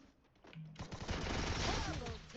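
A firecracker gun fired in an online shooting video game, a fast, dense burst of automatic gunfire that builds and holds loud, mixed with game sounds.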